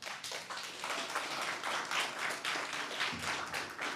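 Audience applause fills a hall at a startup incubator pitch event, steady dense clapping from many hands throughout, fairly loud and continuous with no talking over it.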